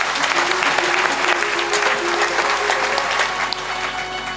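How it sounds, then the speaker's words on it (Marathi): Sustained applause from an audience at a Guru Purnima religious discourse, dense steady clapping filling the whole stretch with a faint murmur of voices underneath. "त्यांच्यासाठी जोरदार टाळी वाजवा"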